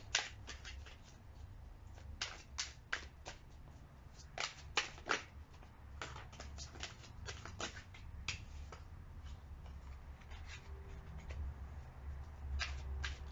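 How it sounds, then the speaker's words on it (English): Tarot cards shuffled by hand, a quiet run of crisp, irregular riffling snaps and flicks close up, clustered in bursts with short pauses over a faint low room hum, no talking. "One more shuffle."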